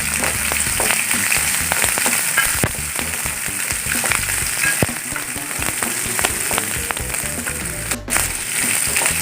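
Green chillies frying in hot oil in a pan for okra sambar, a steady close sizzle broken by scattered ticks and scrapes as they are stirred, with no talk.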